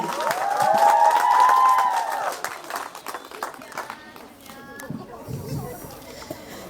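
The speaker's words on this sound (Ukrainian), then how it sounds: "Аплодисменты!" A studio audience at a parody contest show applauds a performer's entrance, scattered clapping and crowd murmur following a sung passage, with voices talking over it.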